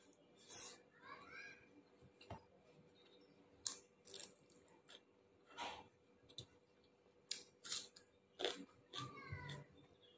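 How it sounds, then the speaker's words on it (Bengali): Someone eats chicken biryani alone, and faint close-up chewing and biting sounds come in short, irregular bursts. Quiet speech and small clicks appear between the mouthfuls. "এখন আমি একা একা খাচ্ছি।"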